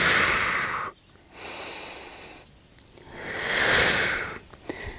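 A deep breath during a yoga flow: long, airy, rushing breaths through the nose and mouth, close and fairly loud, in two swelling waves split by short quiet pauses, with no talking.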